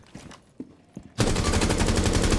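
Sustained automatic gunfire from a shooter game, a rapid, unbroken spray that starts abruptly after a few faint quiet taps and keeps going loud and close to the end.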